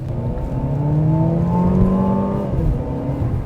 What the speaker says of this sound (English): when you hammer it, it does make a pretty nice sporty sound